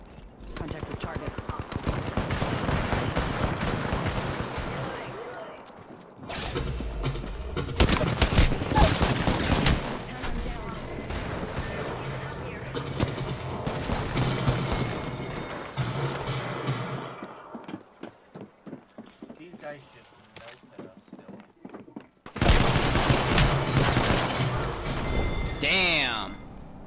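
Repeated bursts of video game gunfire, including shots from a 30-30 rifle, crack in loud clusters separated by quieter gaps in an Apex Legends arena match, with people talking throughout.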